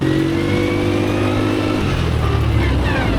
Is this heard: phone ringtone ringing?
no